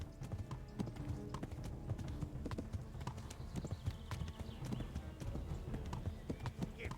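Hooves of a galloping horse in the video game Kingdom Come: Deliverance drum in a fast, continuous rhythm, close and steady throughout at a low level.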